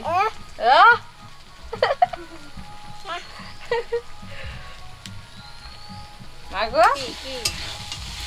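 Data shak stems frying with spices in a pan, a steady low sizzle and occasional stirring scrapes running beneath a voice and a child's chatter and giggles.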